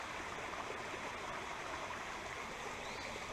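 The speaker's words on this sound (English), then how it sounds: "right by this little creek." A small creek flowing beside a mountain bike trail on a property, a continuous soft burble and rush of water close by, steady and fairly quiet, with no voices.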